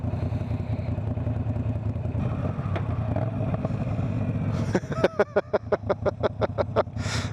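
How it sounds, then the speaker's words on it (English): A Moto Guzzi V9 Bobber motorcycle engine idles with a steady low rumble, then downshifts into a rapid series of rhythmic, loud pulsing revs and pops near the end. "God, downshift sounds so good."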